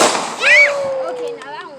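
Outdoor fireworks at a family fireworks show go off in a sharp burst, followed by a rising whistle and crackling pops, while people talk nearby.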